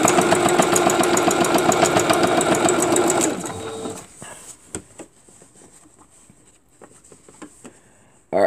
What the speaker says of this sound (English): There ain't nothing wrong with the sewing machine.